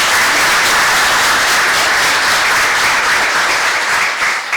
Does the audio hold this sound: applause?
yes